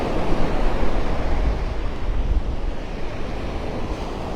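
Surf rolls onto the shore at Vanderbilt Beach in Naples, Florida, a continuous low wash of waves heavily mixed with wind buffeting the microphone, loud and steady throughout with no voices.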